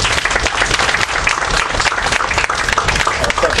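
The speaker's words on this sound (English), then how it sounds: "Let's give her a round of applause." An audience at a civic program in Richmond, Virginia, claps in loud, dense applause that holds steady throughout, with some crowd noise mixed in.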